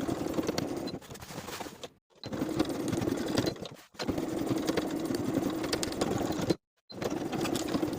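A sewing machine runs steadily, top stitching the back pocket of high-waisted jeans, its fast even whirring hum stopping briefly three times before starting again.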